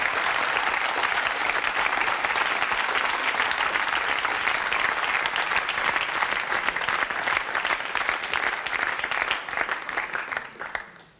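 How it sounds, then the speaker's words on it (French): A French television studio audience applauds in a dense, sustained wash of many hands clapping, holding steady and loud before fading out quickly at the very end. "On peut l'applaudir."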